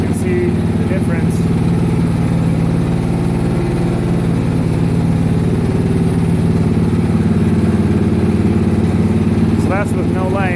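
A steady, loud engine idle from an Ariens Deluxe 28 snow blower runs at low throttle throughout, a continuous even drone with no revving.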